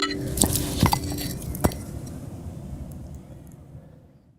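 Glasses clink together in a toast, a few bright chimes close by at the start followed by a soft rustling hush that fades out, with no talking.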